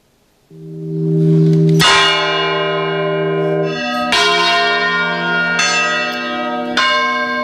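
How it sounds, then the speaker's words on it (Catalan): Large church bells in the Vall d'Albaida, rung by hand, ring out loudly, with several strikes a couple of seconds apart and long, shimmering overtones that hang between hits. "així com ara veuran han sonat les campanes esta vesprada a la Vall d'Albaida"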